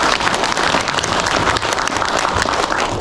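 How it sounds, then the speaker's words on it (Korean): A crowd of residents at an apartment reconstruction briefing in Seoul gives loud sustained applause, a dense continuous roar of clapping throughout. "큰 박수 한번 부탁드리겠습니다"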